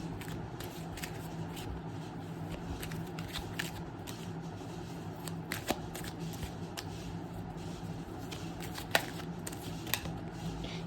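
Tarot cards shuffled continuously by hand, a dense papery riffle with occasional sharper snaps, close and steady throughout.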